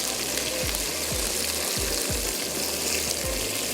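Steady, dense sizzling of meat frying with garlic and ginger in a hot pan for Balti gosht, continuous crackle throughout, with a few low thumps from stirring; no voices.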